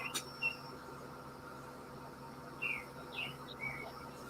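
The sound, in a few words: birds chirping before sunrise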